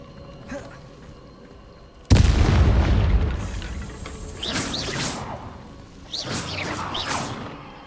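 Confringo blasting spell in Hogwarts Legacy: a sudden loud explosive boom with a heavy low rumble that decays over a couple of seconds, followed by swooshing magical bursts and further crackling impacts, with no talk over it.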